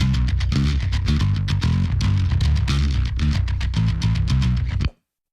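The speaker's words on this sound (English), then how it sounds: "So what you're hearing is my Dingwall combustion bass" Dingwall Combustion five-string bass guitar in a metal mix, playing dense, driving low notes with a bright picked attack, loud and continuous before stopping abruptly near the end.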